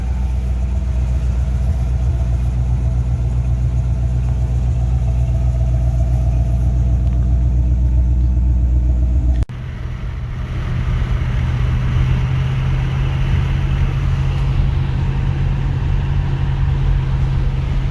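A lowered 1986 GMC C10 truck drives with a steady low rumble that drops briefly, then picks back up and carries on without talk.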